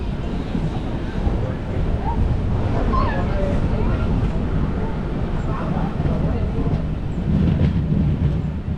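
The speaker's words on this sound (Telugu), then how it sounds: "ట్రైన్ అయితే చీముడిపల్లి స్టేషన్కి అయితే వచ్చింది" A train on the Visakhapatnam to Araku line rumbles steadily as it arrives at Chimidipalli station, a dense low roar that continues without pause, with faint voices mixed into the noise.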